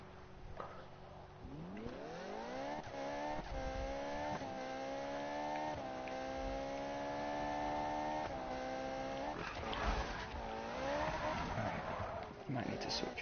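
A car in the Need for Speed racing game revs through rising and falling gear shifts with a continuous engine drone, and tire squeals and skids break in near the end, all loud and up close.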